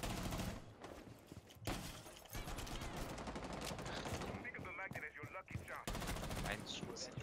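Rapid bursts of gunfire in Rainbow Six Siege, loud and continuous, with sharp shots and automatic fire over game sounds and faint voices.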